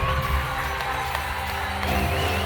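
Awards ceremony audience at a sports gala applauding and cheering as an Olympic downhill silver medallist is called to the stage, a dense, sustained wash of crowd noise that stays loud and even throughout.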